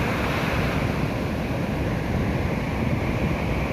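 Ocean surf at Kuta Beach, Bali, rumbles as a continuous close wash of breaking waves, with wind buffeting the microphone.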